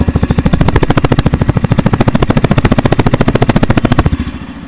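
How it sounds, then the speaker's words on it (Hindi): A 2025 Yamaha FZS motorcycle engine, self-started, chugs loudly up close in rapid, even thumping pulses, then tapers away near the end. "आपको इसका इंजन साउंड सुनवाता हूँ, सेल्फ स्टार्ट करते हैं"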